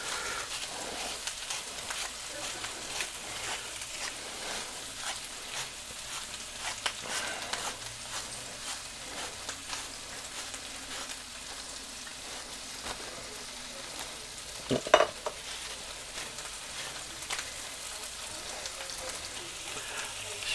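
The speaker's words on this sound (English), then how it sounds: "we're just going to saute this in butter" Vegetables sautéing in butter in a pan give a steady, low sizzling crackle that holds throughout, with one brief louder clatter near the middle.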